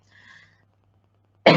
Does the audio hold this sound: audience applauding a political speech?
no